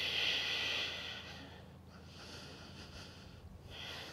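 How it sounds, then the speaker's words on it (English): Ujjayi breathing during a yoga headstand: a soft, hissing, throaty breath, one slow breath with a steady rush at the start, faint and close, with no talking. "Ujjayi breath."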